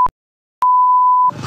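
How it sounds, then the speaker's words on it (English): A short electronic beep, a brief pause, then a long steady room alarm call tone in a detention centre that cuts into a burst of noise. "the woman, we'll call her Anna, has rung an alarm in her room."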